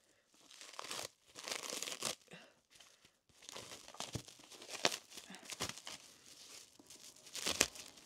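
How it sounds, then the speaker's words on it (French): Paper crinkling and tearing as a paper-wrapped parcel is unwrapped, in a series of close, irregular bursts of rustling and ripping separated by brief pauses. "C'est emballé par du papier."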